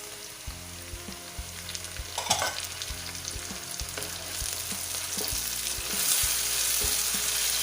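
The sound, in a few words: tomatoes added to a frying pan for arvi (taro) curry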